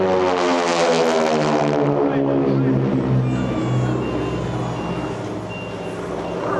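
Several propeller aerobatic airplanes fly overhead in a tight Vic formation at an airshow, their engines a loud, sustained droning roar with harmonic buzz that slowly shifts pitch as they pass, under an announcer's commentary.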